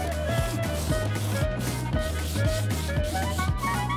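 Steady rhythmic rubbing strokes of sanding on a wooden box, back and forth about twice per second, close up with no talking.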